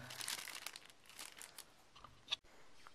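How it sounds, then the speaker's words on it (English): Thin plastic wrap crinkles and tears as it is peeled off a new Pantech Hotshot phone during an unboxing. The rustling is quiet and close, with one sharp louder crackle near the end. "So I took all that plastic wrap off the phone"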